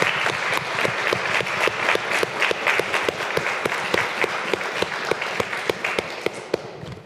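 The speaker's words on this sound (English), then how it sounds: "please join me in thanking our panelists" An audience applauds panelists at the close of a university debate on AI. The clapping is crisp and distinct, with individual claps audible in a steady, fairly close patter that thins out at the very end.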